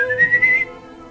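A single short whistle, clear and close, rising slightly in pitch and wavering before stopping after about half a second over a low background.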